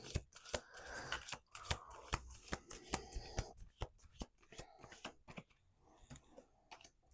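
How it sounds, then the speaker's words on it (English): Playing cards are shuffled repeatedly in a quiet room, giving crisp riffling bursts and sharp snaps at an uneven rhythm, heard up close. "Let's do 2 more shuffles."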